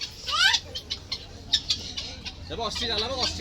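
Silkie chickens cluck and squawk in short bursts, with thin chirping calls rising and falling over a low steady hum.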